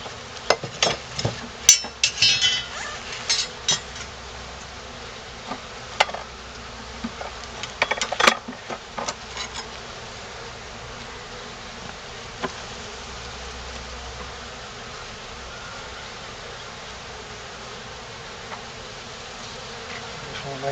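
Honey bees buzzing around an open hive during an inspection, a steady faint hum with brief louder bursts as individual bees fly close, most active early and quieter toward the end.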